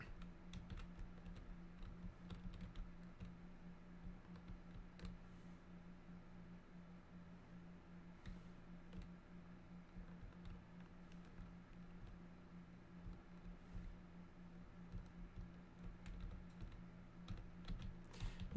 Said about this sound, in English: You think it'd be easy to be precise with, you know, arrow keys on a keyboard, right?